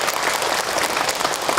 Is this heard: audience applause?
yes